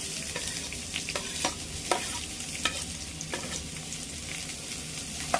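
Capsicum pieces sizzle steadily in hot oil while a spoon stirs and scrapes the pan in irregular, repeated strokes.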